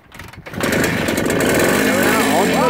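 A 1964 James L20 Captain 200cc motorcycle is started. After a few soft clicks and a brief hesitant catch, the engine bursts into a loud, steady, buzzing run close by, and someone speaks over it.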